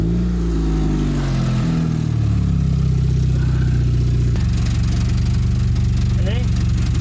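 A 2006 Chevy HHR with a rusted-out exhaust leak runs loud and close, its engine idling and then revving with a rough, raspy pulsing drone.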